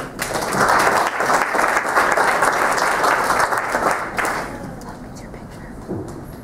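An audience applauds to welcome a speaker at a hospital charity story-sharing event, dense sustained clapping from a room full of people that tapers off toward the end.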